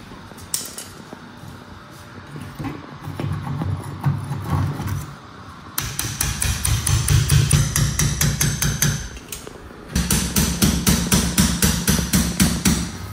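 An extended drill bit bores deeper into a sintered stone slab while a television mount is being fitted, giving a loud, close, rapid hammering rattle that runs in long bursts with a brief pause between them.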